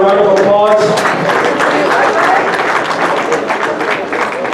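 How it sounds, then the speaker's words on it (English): A close, loud round of applause from a dinner-event audience fills the room, steady dense clapping that swells briefly with cheering at the start and carries on without a pause. "Give yourself a round of applause."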